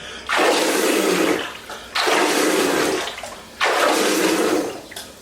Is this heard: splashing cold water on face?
yes